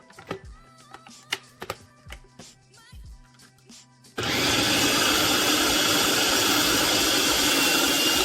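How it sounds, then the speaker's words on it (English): A food processor pulses walnuts into vegan taco meat. Scattered light clicks and taps come first, then a loud, dense whirring grind starts abruptly and runs steadily to the end. "to simply just pulse out all of my ingredients until it looks like ground meat"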